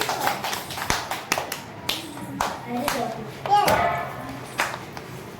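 Small children at a kindergarten Navratri celebration clap their hands in scattered, uneven bursts, with kids' voices and chatter mixed in close by.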